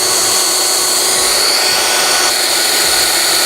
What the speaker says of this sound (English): I'm just gonna drill a hole right where I told you guys the hole was gonna